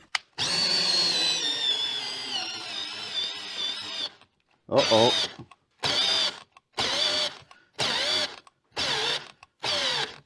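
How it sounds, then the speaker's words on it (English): A cordless drill driving a tire-changing tool to break a tire bead by hand without a machine, a long continuous whine for about four seconds, then six short bursts of whirring, loud and close, with a brief spoken exclamation. "make sure your drill battery is charged"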